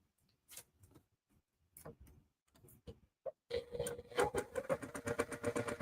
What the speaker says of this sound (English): now I'm taking that last square and I'm just sewing it to this right here